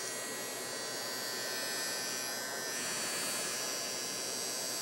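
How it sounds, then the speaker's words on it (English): A heat gun blows with a steady, loud, even whirring hum while shrinking heat shrink tubing over wire leads, running alone throughout. "I can take my heat gun"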